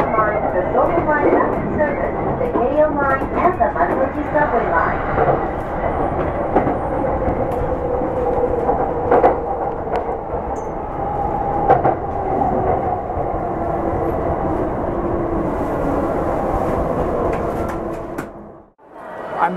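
A train pulls into Tokyo Station with a loud steady rumble, rattling wheels and brake squeals, while an onboard announcement plays over it, fading to a brief quiet near the end.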